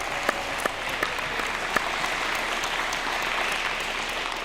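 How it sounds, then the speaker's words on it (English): Audience applause fills the room at an apprenticeship signing ceremony, a steady rush of clapping with a few sharp, close individual claps standing out early on. "So let's give us each a big round of applause."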